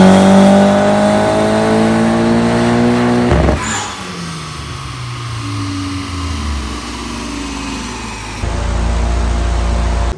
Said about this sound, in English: Yeah, it's the wastegate opening up.